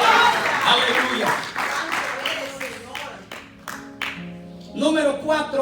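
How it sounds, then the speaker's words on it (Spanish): A church congregation applauds to the Lord, a dense burst of clapping that fades out over a few seconds before a voice resumes speaking. "Dele ese fuerte aplauso al Señor."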